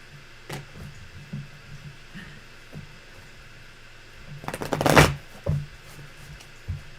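A few soft card taps and flicks, then a quick riffle shuffle burst near the middle, followed by a couple of light slaps.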